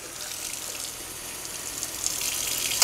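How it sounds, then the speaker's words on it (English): Water pours from a tap into a pot measured out for cooking rice, a steady hissing gush that grows slightly louder toward the end, with no talk over it. "we're going to put a cup and a quarter of water into the pot measured"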